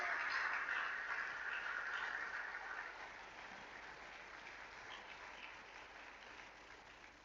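Church congregation clapping in praise at a sermon, a steady dense wash of applause that starts fuller and gradually thins and fades, heard from a distance and fairly faint.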